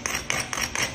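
Flintknapping strikes flaking Tallahatta quartzite into a Dalton arrowhead, four crisp, evenly spaced stone-on-stone clicks in quick succession, close and fairly loud.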